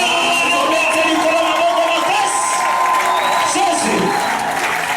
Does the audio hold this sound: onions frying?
no